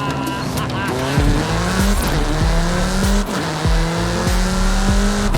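A race car in the video game Forza Horizon 5 accelerates and corners on a countryside road, its engine loud and steady with rising revs, gear changes and tire squeal, continuous and close throughout.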